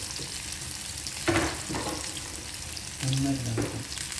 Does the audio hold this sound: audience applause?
no